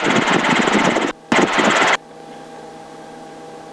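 Aircraft engine running loud and steady at high power, cutting out briefly and then dropping sharply to a low, quieter hum before a faint click at the end.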